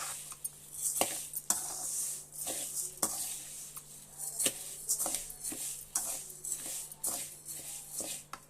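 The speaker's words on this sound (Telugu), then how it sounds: "ఇట్లా వేయించుకోవాలి. బియ్యం, కందిపప్పు, పెసరపప్పు, బ్రౌన్ రైస్" Rice, toor dal, moong dal and brown rice being dry-roasted in a pan. A spoon scrapes and clinks against the metal in a steady rhythm of sharp taps, with a faint crackle of grains underneath.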